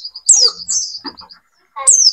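A caged female white-eye used as a decoy gives bright, high chirps and trills in short bursts, close and loud, with a brief pause before a final sharp call.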